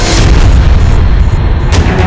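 An explosion blast from a TV crime drama, a loud, deep, sustained boom that rumbles throughout, with a burst of crackling debris near the end and no talking.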